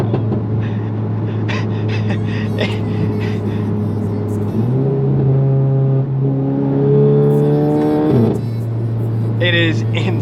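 A VW MK7 GTI with an ARM catless downpipe and Stage 2 tune, its loud exhaust droning and rising in pitch as the engine revs, then dropping back to a steady idle, heard close with some background talk.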